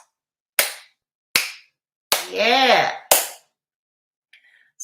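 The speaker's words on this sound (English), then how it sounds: "Callie, slow clap." Four sharp, widely spaced claps ring out in a deliberate slow rhythm, loud and close, with a drawn-out voice sound between the third and fourth.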